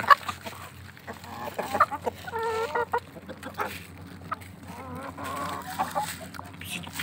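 Chickens and geese being fed grass cluck and chatter close by in uneven bursts over a low background hum, with occasional sharper calls and no clear speech.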